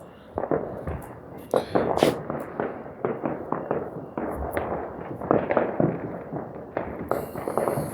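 Repeated fireworks explosions on the Fourth of July pop and crackle in quick succession, with sharper bangs scattered through a continuous rumble of bursts and faint voices beneath.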